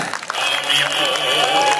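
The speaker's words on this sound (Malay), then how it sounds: "beri tepukan kepada panel kita" A crowd applauds a panel with steady, dense clapping that fills the space, with voices talking underneath.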